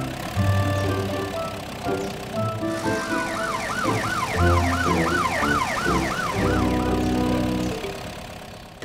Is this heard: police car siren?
yes